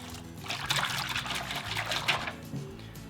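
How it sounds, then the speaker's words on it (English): Water pours steadily into a bowl close by, a splashing, trickling stream for a few seconds before tapering off. "Let's go ahead and add our 1 1/4 cup of water."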